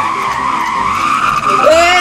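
A bus drifting with loud tire skids in a video game, a continuous squeal over engine noise that shifts in pitch near the end.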